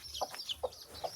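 A chicken clucks softly nearby, three short evenly spaced clucks with faint higher bird calls in between, quiet and without talk.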